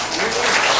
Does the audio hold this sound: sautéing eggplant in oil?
no